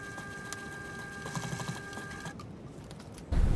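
A domestic sewing machine runs in a steady, mechanical whir while stitching a slim travel sling bag, continuing for a few seconds before stopping near the end, close and moderately loud.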